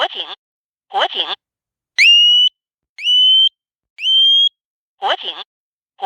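Two short recorded voice bursts from a Hochiki home fire alarm are followed by three loud rising whistle sweeps at one-second intervals, then the announcement voice again, repeating in a steady cycle.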